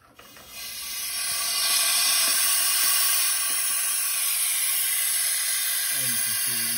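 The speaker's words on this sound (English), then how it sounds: "when we open this, it'll allow air to pass through and then create a suction on the system." Air rushes through an open valve to pull suction on a system, a loud, steady, high hiss that builds within the first second and holds evenly, with faint clicks and a brief low flutter near the end.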